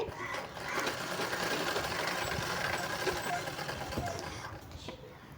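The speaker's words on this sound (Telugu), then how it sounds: "స్టిచ్ చేసుకోవాలా చూడండి ఈ విధంగా ఒకటే లెవెల్లో కుట్టుకోవాలండి" A sewing machine runs steadily, stitching piping cloth onto a blouse, a continuous close whirring hum that eases off near the end.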